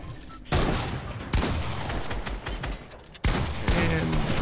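Fortnite gunfire in a Champs Arena match: several loud, abrupt bursts of rapid shots with short gaps between them, sharp and close.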